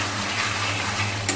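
Chicken frying in spices and its own juices sizzles steadily in the pan, a close, even hiss with a low bubbling hum and one brief scrape near the end.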